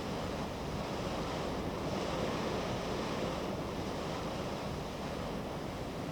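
Sea waves wash continuously against the coast with steady wind gusting over the microphone, a dense, loud roar with no pauses and no voices.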